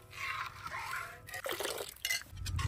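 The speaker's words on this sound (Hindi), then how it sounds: "अब हम दूध में फटकड़ी वाला और टाटरी वाला पानी डालेंगे।" Alum and tartaric acid water poured into milk in a pot for Multani sohan halwa, with a spoon stirring; a splashing pour and light clinks of the spoon against the vessel, close and moderately loud, with no talking.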